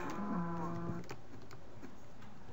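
A Minecraft cow moos once, a close, clear low call with a harmonic tone lasting about a second, followed by quiet game ambience.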